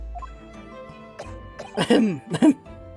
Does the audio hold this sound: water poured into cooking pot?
no